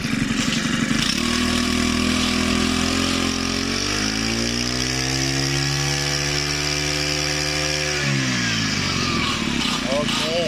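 A small four-stroke grass trimmer engine runs steadily and loudly, revving up and then settling back down, its pitch sliding as the throttle changes.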